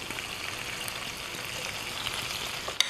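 A quarter cup of onions frying in olive oil in a pan, a steady dense sizzle with crackly hiss throughout and a sharp pop near the end.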